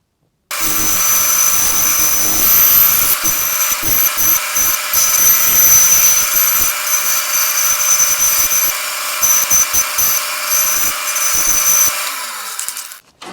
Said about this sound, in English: we are ready to cut that on the bandsaw